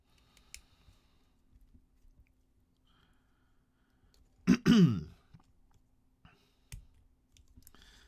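A person clears their throat with a short, close, fairly loud burst in an otherwise quiet room, with a few faint clicks around it.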